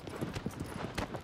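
A horse gallops in the video game Shadow of the Colossus, producing rapid, rhythmic hoofbeats that are fairly faint and close, running continuously without a break.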